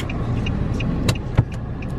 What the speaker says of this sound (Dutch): We rijden in onze auto die we hebben gehuurd.